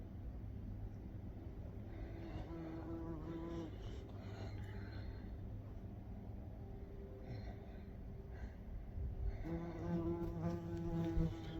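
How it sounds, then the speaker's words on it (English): A wasp buzzing outdoors in cold weather during an Idaho deer hunt, a continuous droning hum close to the microphone over outdoor rumble, growing slightly louder toward the end. "And how is there a wasp? It's so cold out right now."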